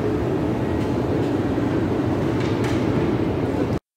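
Bucharest metro train on the Drumul Taberii line, a steady loud low rumble of rolling stock that holds constant for about four seconds before cutting out abruptly.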